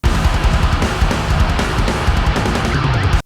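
Fast, pounding drums from a heavy band, dense and continuous, with a thin, muddy mix where the hits blur together.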